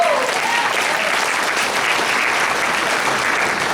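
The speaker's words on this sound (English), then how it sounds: "Let's give Vern a round of applause." An audience gives a sustained round of applause at a morning gathering, steady dense clapping filling the whole stretch without pause.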